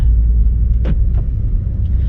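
Steady low engine rumble of a BMW X4 M Competition under way, with a couple of brief higher whooshes or clicks over the drone.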